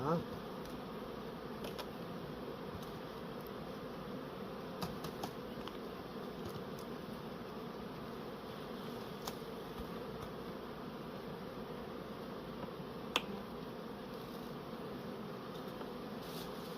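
Honeybees buzz steadily and densely around royal jelly frames during end-of-season royal jelly harvesting, a constant moderate drone with scattered faint clicks and no speech.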